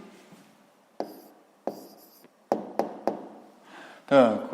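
Pen on paper, writing down the answer to a sixth-grade math perimeter problem: a handful of quiet, separate scratchy strokes and taps, close and faint, ending in a brief louder scrape.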